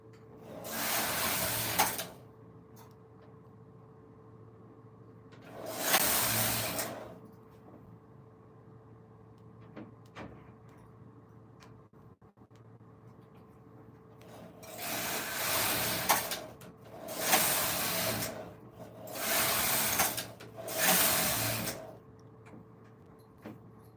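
A Silver Reed knitting machine is worked by hand, its carriage swishing across the needle bed in loud, broad sweeps, one pass, a long pause, then four passes in quick succession over a low steady hum.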